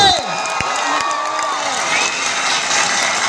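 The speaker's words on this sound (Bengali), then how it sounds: "জোরে হাততালি হবে সবাই মিলে" A lively crowd cheers and shouts steadily at a public appearance, with whoops and scattered clapping mixed in, loud and continuous throughout.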